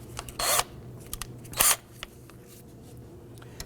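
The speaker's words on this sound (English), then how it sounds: "We're going to go ahead and remove the bolt from the back side of the caliper." A 10mm caliper bolt is loosened on a 2008-2011 Ford Focus front brake. Two short, loud bursts of ratcheting or scraping sound up close stand out against a quiet garage background.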